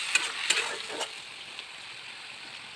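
Golden-brown onions and ground masala fry in a pan for an egg curry, giving a steady soft sizzle with a few light stirring scrapes near the start.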